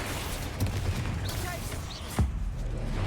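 In the Hogwarts Legacy video game, Confringo and Expelliarmus spells go off as crackling magical blasts, with a sharp burst near the end, heard under a talking voice.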